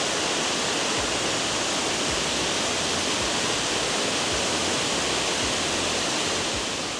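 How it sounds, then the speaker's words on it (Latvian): A large waterfall at Villa Gregoriana roars loudly and steadily, a dense unbroken rush of falling water close by, with no voices over it. "lielais ūdenskritums."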